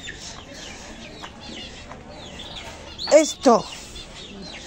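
Quails and chickens calling at close range, two loud clucking bursts standing out over a busy background of softer chirps, with people talking nearby.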